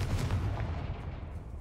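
In Hogwarts Legacy, a Confringo fire spell bursts with a short, low thud followed by a brief rumbling decay, fairly quiet, with no talking.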